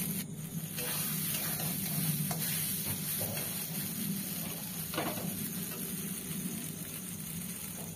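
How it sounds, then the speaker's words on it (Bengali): Bottle gourd leaf mash sautéing in a pan over low heat, a soft continuous sizzle with occasional scraping stirs, close and steady, no talking. "এবার ভালো করে শুধু কষিয়ে নিতে হবে যাতে জলটা টেনে যায়"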